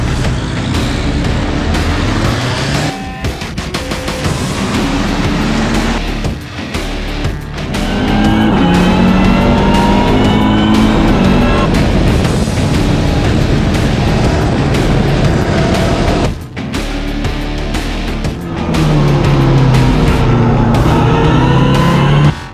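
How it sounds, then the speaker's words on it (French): Race cars launching at the start of a three-hour race at Nogaro circuit, a loud sustained roar of many engines with rising whines as cars accelerate and pass nearby. "C'est parti pour 3 heures de course."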